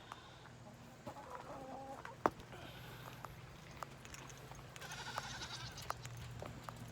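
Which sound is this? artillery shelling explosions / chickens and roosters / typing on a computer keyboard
chickens and roosters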